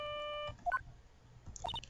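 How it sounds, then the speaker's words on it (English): A phone rings in the Phoenix Wright: Justice for All video game, a short electronic tone followed by a few faint, quick beeps in near silence. "All of a sudden, the phone began to ring."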